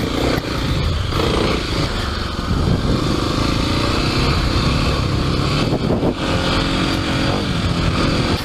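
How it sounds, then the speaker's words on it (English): A Kawasaki KLX300 dirt bike riding an uphill, rocky trail chugs loudly and steadily at low revs, close to the listener, with a continuous rumble and slight surges throughout. "Listen to how low this thing chugs."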